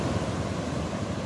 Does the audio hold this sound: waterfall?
yes